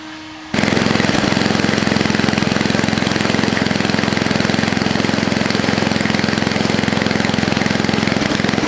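An Ariens ST824 snowblower engine running on a new carburetor with a temporary gas tank. It starts abruptly and runs loud and steady with a fast, even, chugging pulse, close up, with no talking.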